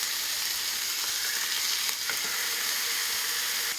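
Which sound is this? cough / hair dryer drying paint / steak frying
steak frying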